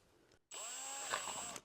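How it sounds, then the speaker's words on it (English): A power drill bores a half-inch hole in the centre of a wooden box: a brief high-pitched whine that spins up, holds steady for about a second, then stops. It is close and alone, with no talking. "carefully drill a 1/2 inch hole"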